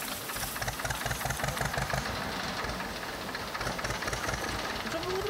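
Tractor engine running at idle, a steady rhythmic chugging drone with knocking pulses, fairly close and continuous with no talk over it.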